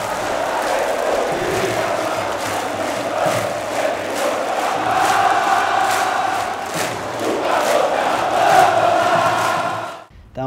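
Santa Cruz football supporters fill a stadium with a loud, dense roar of massed shouting and chanting that swells and surges, then cuts out abruptly near the end.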